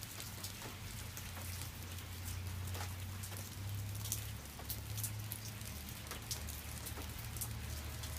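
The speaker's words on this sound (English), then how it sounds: "Cause rain." Steady rain falls outdoors, a continuous soft patter of drops on surfaces with a low rumble underneath, lasting throughout without voices.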